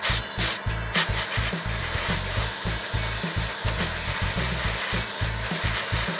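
A dryer blows a steady, loud hiss of air over a freshly worked part of a Ford GT Matech scale model, running continuously with a few brief gaps near the start and no talking.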